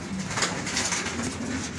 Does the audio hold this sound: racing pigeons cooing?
yes